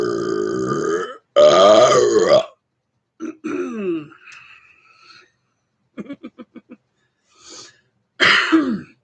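A person burps several times, long voiced belches with bursts and pauses between them, including a rapid string of short staccato burps, loud and close with no other sound.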